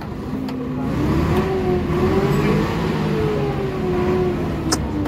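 A tractor engine runs at a tractor market, its steady mid-pitched drone rising and falling slightly as it revs, loud and close, with no voices.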